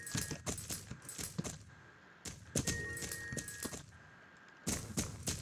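Horse galloping in the video game Star Stable during a championship race, rapid rhythmic hoofbeats in close bursts with brief gaps, fairly loud and alone.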